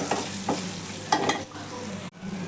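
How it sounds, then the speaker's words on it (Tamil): Spices for a Tamil fish curry sizzle and crackle in a hot pan while a spoon stirs and scrapes them around, the frying steady with a brief dip near the end. "இப்போது மசாலா நல்லா வதங்கிருச்சு"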